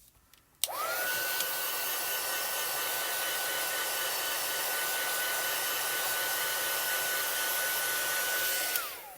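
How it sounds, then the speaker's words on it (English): A heat tool blows steadily over archival ink stamped on card, switching on abruptly and holding a loud, even whooshing hum with a faint whine for about eight seconds before cutting off, no voices. "I'll probably put a heat tool to it real quick."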